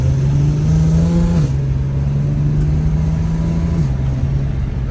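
A Nissan Skyline R32 engine idles loudly with a steady low hum, its pitch dipping slightly a couple of times, heard from close by without talk.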